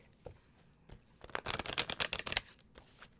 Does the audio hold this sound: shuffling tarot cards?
yes